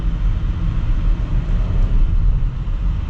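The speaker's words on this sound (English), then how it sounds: "Yeah, super quick with the gear shifts, and again, sounds pretty good from that little V6" A Porsche Cayenne S with a V6 engine runs in a low, steady rumbling drone heard from inside the cabin in manual sport mode, the engine note holding fairly even and moderately loud without distinct breaks.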